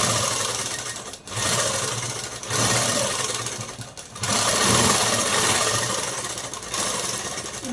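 A sewing machine runs close and loud, top-stitching the neckline of an umbrella-cut dress in steady whirring bursts, pausing briefly twice before resuming its rapid mechanical rhythm.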